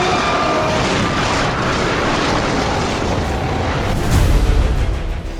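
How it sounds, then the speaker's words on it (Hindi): A Tejas fighter jet goes down during a flight display: a loud, dense roar fills the air, then a heavy low boom bursts out near the end and rumbles as it fades. "जेट के गिरते ही उसमें धमाके के साथ भीषण आग लग गई।"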